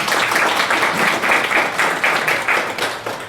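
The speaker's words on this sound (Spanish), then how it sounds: "Un aplauso para nosotros mismos." A crowd gives loud, dense applause at a community event presenting a Kañari diaspora project. The clapping forms a continuous roar with slight swells and runs on without any voices.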